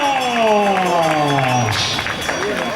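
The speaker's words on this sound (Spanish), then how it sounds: "ese aplauso fuerte para Juan José Muñoz Acuña" Spectators at a running race applaud and cheer runners on the last lap, a broad crowd roar beneath an announcer's amplified voice that dominates the foreground.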